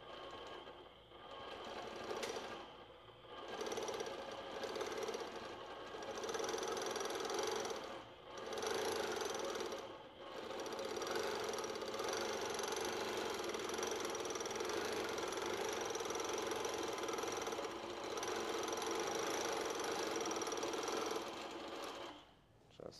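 Longarm quilting machine stitching fabric, a rapid mechanical whirring chatter running nearly continuously with a few brief pauses, close and steady.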